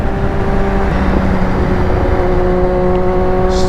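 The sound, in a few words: Honda CBR motorcycle being ridden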